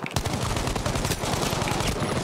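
Dense automatic gunfire from the Battlefield V video game, a rapid sustained burst of shots loud throughout and alone without speech.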